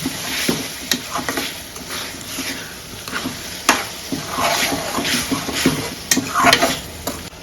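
Minced mutton keema sizzles in a hot pan while a spoon stirs and scrapes through it in steady, uneven strokes, close and fairly loud, with no talking.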